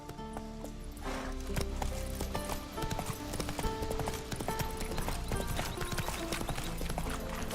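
The horse Roach gallops in The Witcher 3, with rapid rhythmic clip-clop hoofbeats over layered game music and effects, loud and continuous, no clear talking.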